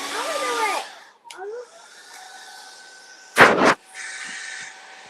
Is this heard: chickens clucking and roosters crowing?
no